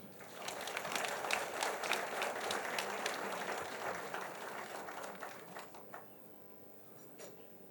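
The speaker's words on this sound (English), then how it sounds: "Let's welcome them with a round of applause." An audience at a national financial strategy launch greets guests with applause that swells into a broad, even patter, then thins and fades toward the end, heard from a distance and fairly faint.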